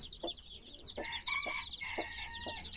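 Chickens cluck close by in a coop where young Leghorn chicks are kept, sounding short repeated clucks and a few longer drawn-out calls over a quiet background.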